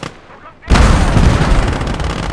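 Machine gun tanks firing in the Gates of Hell WWII strategy game, a quiet moment suddenly broken by a loud close blast and continuous rumbling gunfire and explosions.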